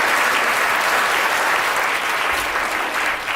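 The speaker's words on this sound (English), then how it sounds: "Give a round of applause for Fred." A lecture-hall audience at a chemistry demonstration breaks into a dense, continuous wash of applause, steady and loud for a few seconds without distinct individual claps.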